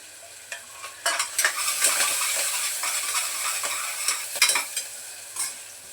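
Chopped onion and curry leaves sauté in a hot pan on a home stove, soft sizzling under a run of irregular stirring scrapes and clinks of a spoon against the metal; no talking.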